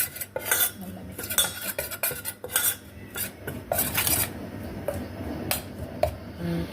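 A utensil mixes a couscous salad dressed with lemon juice in a bowl, giving repeated sharp clinks and scrapes against the dish in an uneven rhythm.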